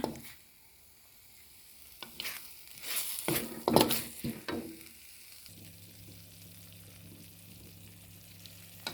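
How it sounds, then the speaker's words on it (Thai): Panang curry paste stir-frying with a little coconut milk in a hot pan, with a soft continuous sizzle. Several louder scraping bursts from stirring come in the middle before it settles back to a quiet steady fry. "พริกแกงของเราก็จะผัดไปเรื่อยๆ จ้า พริกพผนงพริกพผนงค่ะไม่ใช่พริกแกง ผัดให้หอมไปเลยค่ะ"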